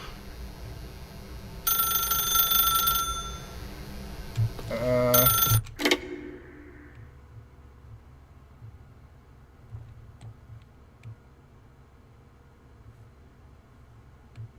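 A telephone rings in the video game The Stanley Parable: two loud bursts of harsh electronic ringing, then it cuts off abruptly, leaving a faint low room hum.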